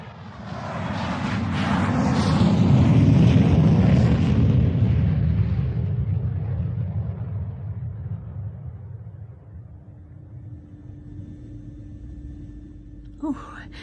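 A passenger jet, a British Airways flight bound for Dusseldorf, roars through its takeoff, swelling to a loud, broad rumble and then slowly fading as it climbs away, with a brief faint sound near the end.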